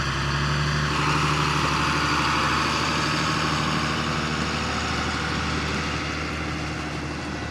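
A John Deere 8110 tractor, a smaller tractor, pulls an empty tracked trailer on a farm, its engine holding a steady, loud, low drone throughout with no voices.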